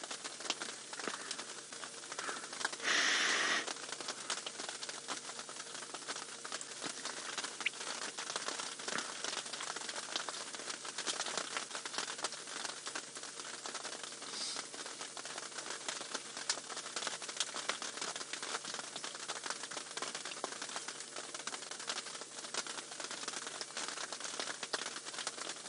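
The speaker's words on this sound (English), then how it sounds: "Still drizzling slightly though. You can hear it on the roof." Light drizzle patters on the roof of a safari vehicle, a soft, dense, continuous crackle of tiny drops that holds steady and faint throughout, with no talking.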